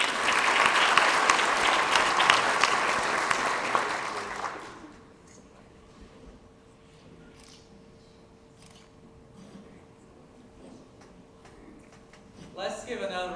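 Audience applause at a school Student of the Year ceremony for an elementary student, loud dense clapping for about four seconds that cuts off abruptly, followed by a quiet room with faint ticks and a voice speaking near the end.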